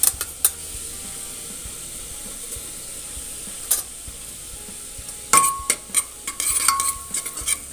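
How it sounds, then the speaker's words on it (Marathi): Cumin seeds fry with browned onion in ghee for jeera rice, a low steady sizzle with sparse spoon taps, then a busier burst of scraping and clinking stirs toward the end. "तर कांदा चांगला भाजल्यानंतर यामध्ये मी 2 चमचे जिरे टाकते।"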